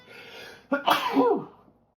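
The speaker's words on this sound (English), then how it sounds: "I'm gonna sneeze now, excuse me" A single close, sharp sneeze bursts out after a brief quiet lead-in, loud and abrupt, then trails off.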